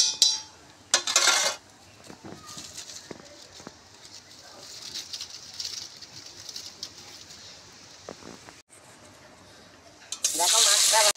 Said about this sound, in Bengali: এবার আমি মাছটা ভাজা করছি